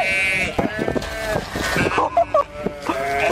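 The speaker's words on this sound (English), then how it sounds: "A herd of sheep had enough constant orders from a man and teamed up to charge at him repeatedly" A herd of sheep bleats repeatedly while charging at a man, with several wavering, close bleats overlapping. A voice talks over the animals throughout.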